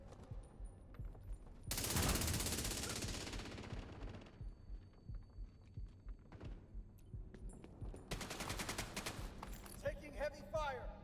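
Automatic assault-rifle fire in the online shooter The Division 2, with a loud sustained burst early on, scattered shots in the middle and another rapid burst near the end, mixed with game voice lines and sound effects.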